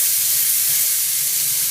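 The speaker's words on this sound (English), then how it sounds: "And so we saute these just until them onions" Onions sautéing in a pan for a Brazilian shrimp stew, giving a loud, steady, bright sizzling hiss that runs unbroken throughout.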